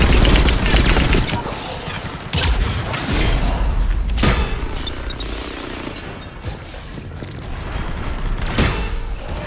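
Gunfire in Mass Effect 3: repeated loud weapon blasts and booming impacts in sporadic bursts during combat, with voices calling out between shots.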